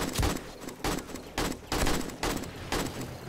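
Gunfire during a horde night in the video game 7 Days To Die, loud repeated bursts of rapid shots separated by short pauses, alone without talk.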